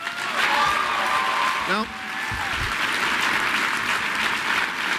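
A conference audience at CPAC 2009 claps loudly during a speaker's speech. The applause fades out near the two-second mark, and a voice then speaks over the fading crowd noise.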